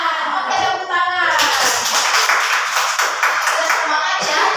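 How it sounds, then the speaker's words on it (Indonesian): A group of students claps together in a classroom learning session, a quick burst of rhythmic clapping that follows a short stretch of lively voices, then continues as a steady crowded patter. "Oke, tepuk tangan."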